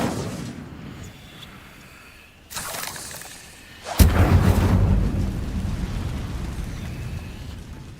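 Incendio fire spell cast in Hogwarts Legacy, a sudden fiery burst followed by sustained roaring crackle, loud and close, preceded by a quieter earlier whoosh.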